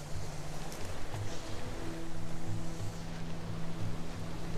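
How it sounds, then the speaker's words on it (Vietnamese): A strong river in the Amazon rainforest, flowing down from the Andes, makes a continuous loud rush of water with pulsing surges and a low rumble. No one speaks over it. "tôi đang nghe thấy tiếng nước ngày càng lớn hơn."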